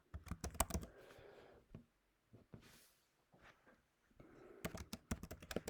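Close computer keyboard typing in two quick, clattering bursts of keystrokes, separated by a quieter stretch with a few scattered taps.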